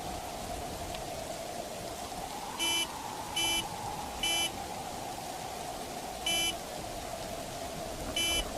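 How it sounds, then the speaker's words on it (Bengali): A car horn sounds in short, evenly spaced electronic beeps, about five blasts of equal length, heard through a steady hiss of storm rain and wind. "মনে হলো গাড়ির হর্ন। এই তুফানের মধ্যে।"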